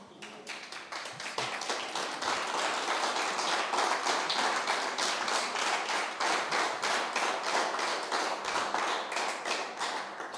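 Audience applause in a church, a dense steady stretch of many hands clapping that goes on for about ten seconds at an even level.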